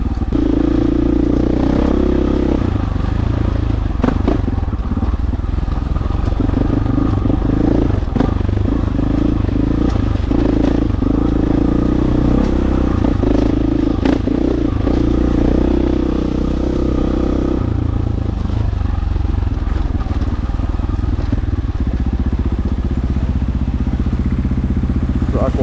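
Dirt motorcycle riding slowly along a backcountry single track in Idaho, its engine chugging loud and close throughout at low revs with slight rises, with clatter from the bike over rough ground.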